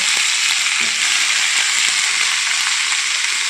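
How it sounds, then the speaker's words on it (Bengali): Washed mustard greens sizzle in hot oil flavoured with garlic, a dense, even frying hiss that holds steady and close for a few seconds, with no talking. "যখন রসুনের গন্ধটা চলে আসলো তেলের মধ্যে, এবার দিয়ে দিচ্ছে ধুয়ে রাখা শাকগুলো"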